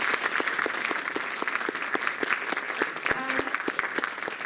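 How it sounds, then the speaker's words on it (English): A crowd at a Mahila Day event claps steadily through an encore round of applause, many hands close and loud with sharp individual claps standing out, and a brief vocal tone rising over it midway. "Can we give them another round of applause, please?"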